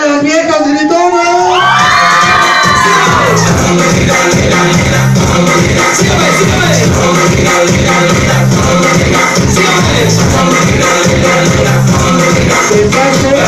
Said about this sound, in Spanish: ¿Y dónde está el grito de todas las viejas gritonas?